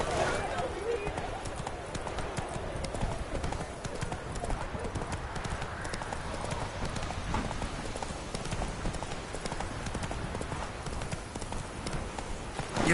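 A horse gallops in The Witcher 3: Wild Hunt, its hooves making a continuous rapid clip-clop under ongoing speech for the whole stretch.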